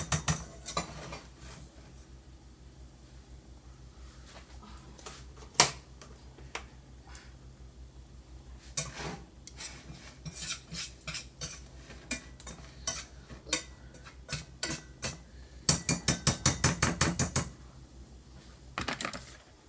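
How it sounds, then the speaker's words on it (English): A wooden spoon stirs chicken stock in a pot for a velouté sauce, giving scattered soft knocks and scrapes, with a quick run of rapid taps near the end. "we gonna mix all of this, all 5 of these cups in here with this spoon until it's all fully incorporated"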